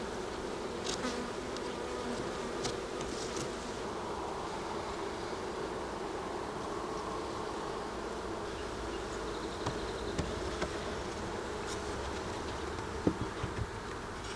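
Bees hum densely around an open beehive during swarm prevention, a continuous close-up buzz with occasional individual insects whizzing past and a few faint knocks near the end.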